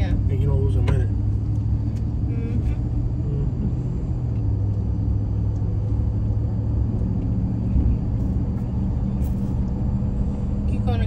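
A car driving through small Texas towns on country roads toward I-20, its steady engine and tire rumble droning loudly and continuously throughout.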